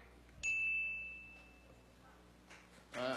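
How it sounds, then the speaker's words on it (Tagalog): A debate timer bell at a 2016 Philippine presidential debate gives a single clear ding that rings out and fades over about a second, then a muffled hall hush and a brief burst of noise. "Ang unang bell po ay 10-second mark, so you have 10 more seconds after the first bell."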